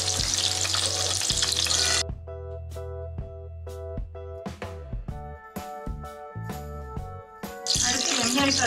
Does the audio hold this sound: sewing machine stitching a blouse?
no